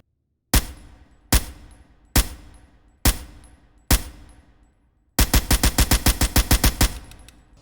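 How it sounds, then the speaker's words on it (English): Suppressed Mark 17 rifle from the shooter game BRM5: five single spaced shots with short decaying tails, then a rapid burst of about a dozen rounds in quick even succession, loud and close with no talk. "they also updated the suppressed Mark 17 sound"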